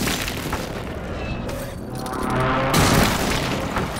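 Rumbling airstrike explosions in Call of Duty, a sustained low boom that swells louder near the end, with no clear separate blasts.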